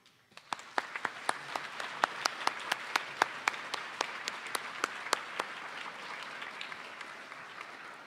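Graduation audience applause for faculty, administration and staff: a soft, fairly distant wash of clapping with sharp individual claps ringing out in a loose, regular rhythm before gradually thinning.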